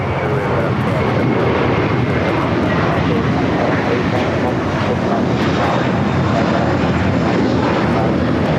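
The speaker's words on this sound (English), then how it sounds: "The Delta 767 400 ER now crossing over 25 right." Delta Boeing 767-400ER jet taxiing across runway 25R at LAX, a steady loud broadband engine roar that holds continuously at close range with no pauses.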